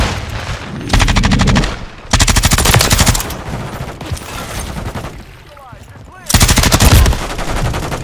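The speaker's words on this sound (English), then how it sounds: "Taking effective fire." Machine gun fire in Modern Warfare 3 multiplayer on the Dust to Dust map, from a Mk 46 Mod 0, comes in loud, close bursts of rapid automatic shots. Brief pauses and background battle noise fall between the bursts, and voices speak faintly underneath.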